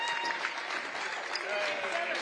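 Crowd applauding at a girls Division 3 high school basketball preliminary-round game, a fairly quiet, continuous patter of clapping throughout, with faint voices mixed in.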